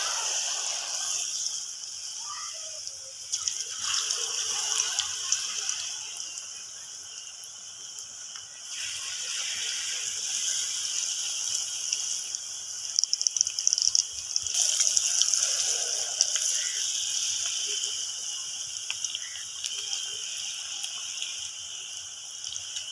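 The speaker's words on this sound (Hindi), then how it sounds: "तो घी हमारा गर्म हो चुका है। अब हम इसके अंदर पकोड़े वाला आटा शामिल करेंगे।" Potato and gram-flour pakora batter fries in hot ghee, giving a steady hissing, crackling sizzle that runs throughout at moderate loudness with brief bubbling surges and no talk.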